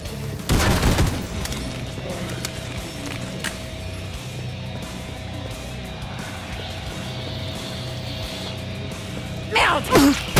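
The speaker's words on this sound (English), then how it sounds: "Like my little grenade" Grenade blast in the Killing Floor 2 shooter, a sharp loud burst near the start with another short burst near the end, set over steady game ambience and a sustained tone.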